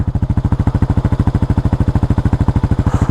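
Kawasaki KLR650 single-cylinder thumper idling in neutral, its steady, even chug of rapid firing pulses close and loud, alone for about three seconds.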